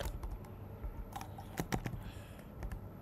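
Computer keyboard typing, a quick cluster of light key clicks in a quiet room, close and alone without talk.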